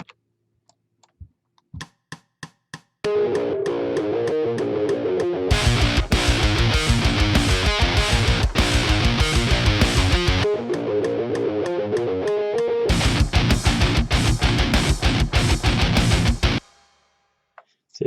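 Electric guitar through a Line 6 Helix with its wah effect automated on and off from a DAW, loud driven rhythmic playing in blocks, the tone changing between sections, preceded by scattered mouse and keyboard clicks.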